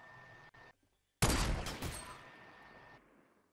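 Gunfire in the video game Fortnite, a sudden loud burst of rapid shots after a brief quieter stretch, then trailing off as the noise fades out, with no talk.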